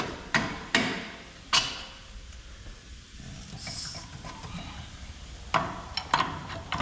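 Scattered sharp metallic knocks from hammering on the front shock hardware of a lifted 2007-2018 Jeep Wrangler, a few isolated hits followed by a quick pair near the end, moderately close over low background noise.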